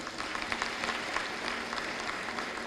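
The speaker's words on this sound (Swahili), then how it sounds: "Kwa mara nyingine tena tuwapigie makofi mengi sana." An audience at a government event about investment claps in a dense, steady burst of applause that is moderately distant and lasts a few seconds.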